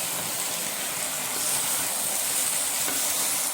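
Tomatoes sizzling and frying in a pan with caramelized onions for an Egyptian akawi (oxtail) tagine, a dense close crackling hiss with faint stirring clicks.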